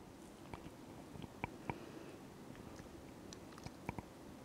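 Soft close-up chewing and mouth sounds from someone tasting sweetened batter in a home kitchen, with a few small clicks over quiet background hiss.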